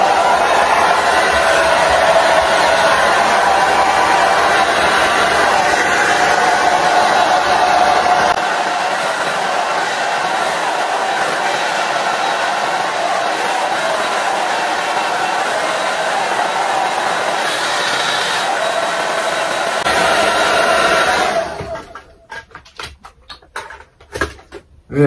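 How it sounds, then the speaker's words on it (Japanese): A hair dryer blowing on towel-dried hair, a loud steady whooshing roar that runs close and alone for about twenty seconds before cutting off into a few faint knocks. "でも、まあ、髪の毛乾かしますね。"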